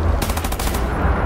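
A short machine-gun burst fires at a robot in the video game Wolfenstein: The New Order, rapid shots in quick succession over a low rumbling background, loud and close.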